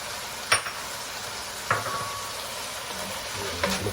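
A spoon stirs diced potato with vegetables in a hot pot for beef soup, giving a soft steady sizzle broken by three sharp scrapes and clanks against the metal.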